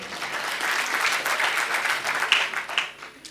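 An audience at a Hindi comedy show breaks into applause, a dense wash of clapping that swells, holds and then tapers near the end.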